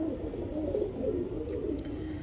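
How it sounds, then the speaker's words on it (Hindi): A pigeon that has just flown in, soft low cooing close by over a steady background hum. "ले दोस्तों ये कबूतर है जो अभी उड़ के आया है"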